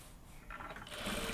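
A sewing machine topstitches a seam in fabric, giving a faint, brief, rapid mechanical whir that picks up pace partway through.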